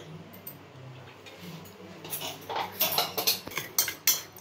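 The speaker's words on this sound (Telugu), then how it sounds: "మొత్తం కలిపే వరకు కలుపుకోవాలి." Salt, coriander powder, ginger garlic paste and a little oil stirred together in a bowl for an omelette, a faint scraping first, then a run of sharp clinks and taps of a spoon against the dish growing louder toward the end.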